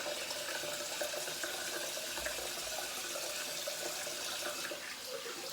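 Water runs steadily from a tap to rinse off after a head shave, a constant soft hissing stream with no talk over it.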